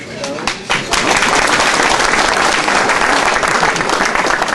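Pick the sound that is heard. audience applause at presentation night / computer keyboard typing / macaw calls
audience applause at presentation night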